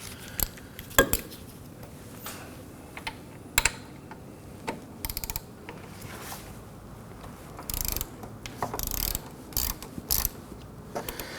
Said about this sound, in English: I'm going to switch over to a ratchet because there's plenty of room up top to get to that one